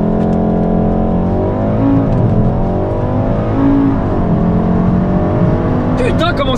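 A Volkswagen Golf 7R at launch control, its engine held at high steady revs around 4000 rpm with the brake on, a loud continuous drone that wavers slightly in pitch, with a burst of sharper noise near the end.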